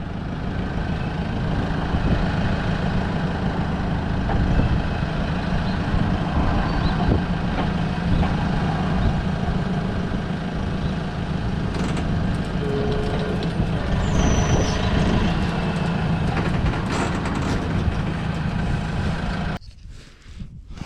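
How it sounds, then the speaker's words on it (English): Heavy machinery engine roaring at a steady high load while a roughly 10,000-pound forklift with its forks removed is moved onto a trailer, a dense continuous rumble and whine that cuts off abruptly near the end. "We got the forklift up here."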